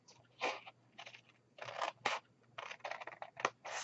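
Paper being cut with scissors while shaping a tea light cake box: a string of close, crisp snipping bursts in uneven rhythm, with short quiet gaps between cuts.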